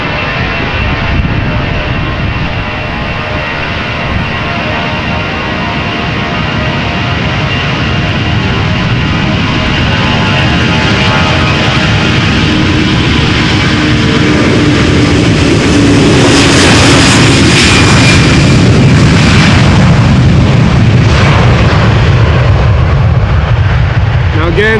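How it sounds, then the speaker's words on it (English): A Surinam Airlines Airbus A340-300 at Amsterdam Schiphol gives a loud, close jet engine roar that builds and intensifies toward the end, with a deep rumble and rising whine, and a voice talks over part of it. "this is Surinam Airlines Flight 993 A340-300, the only A340 that regularly attends Schiphol Airport"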